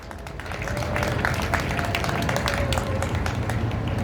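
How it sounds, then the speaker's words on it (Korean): Applause from a rally crowd, building quickly into sustained, dense clapping mixed with scattered shouts and crowd noise, continuing steadily without pause. "응원의 박수 부탁합니다."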